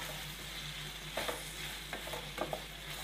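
Chopped green chillies and curry leaves stirred in a pan for a carrot coconut curry, with a low steady sizzle and a few soft scraping clinks of a spoon spread across the clip.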